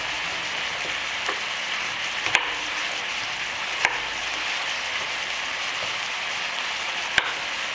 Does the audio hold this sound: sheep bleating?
no